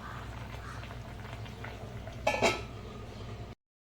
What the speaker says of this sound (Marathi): छान अशी उकळी सुटली आहे.